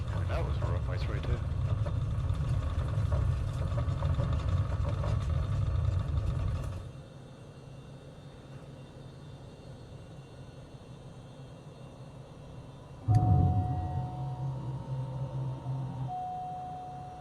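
A simulated aircraft engine in Microsoft Flight Simulator 2020, rolling for takeoff on a runway in Tasmania, Australia, drones loudly and steadily for several seconds, then cuts to a much quieter hum before brief electronic tones sound.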